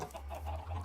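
Chickens clucking in the Minecraft video game, a steady run of soft, close fowl clucks over a low constant hum, with no talk.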